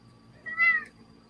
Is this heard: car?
no